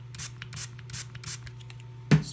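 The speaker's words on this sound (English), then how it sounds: "Spray it down a little bit" Several short hissing bursts from a spray bottle mist water onto a compressed toilet paper tablet, sounding close and repeated in quick spurts over a low steady hum, ending with a brief louder knock.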